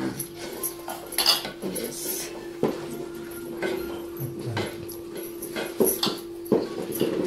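Sankranti pongal is mixed by hand in a pot, with scraping, stirring and clinks of metal at an irregular pace. A background hum runs steadily underneath.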